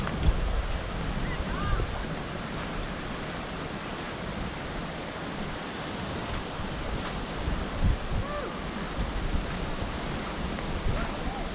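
Strong outdoor wind during a rabbit hunt with beagles in Michigan, a dense, steady roar with gusts that fills the whole stretch, loud and close to the microphone.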